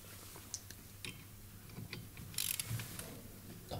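Loosening the 15 mm wiper arm nut on a 2013 Range Rover Sport with a ratchet, heard as faint, close, irregular clicking and ticking with a brief burst of metallic clatter, no talking.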